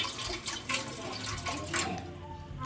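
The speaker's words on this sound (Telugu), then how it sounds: "అందులో 1 గ్లాస్ ఆఫ్ వాటర్ వేసుకొని" A glass of water is poured into an idli cooker, a close, steady splashing gush of liquid filling the metal vessel for a few seconds with a faint trickle.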